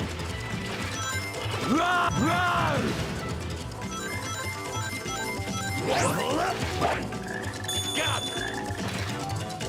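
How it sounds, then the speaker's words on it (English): Frog croaks sound within the Sonic Heroes video game among busy game effects and music, with sweeping chirps and clattering heard close and fairly loud throughout. "Why is there a frog noise coming from this location where there's no frog?"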